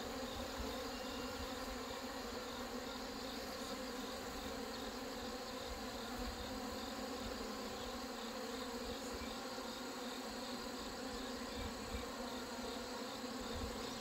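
Honeybees and hornets buzz steadily around beehives at a mountain apiary where sugar water is being fed, a dense continuous insect drone close by with no talking.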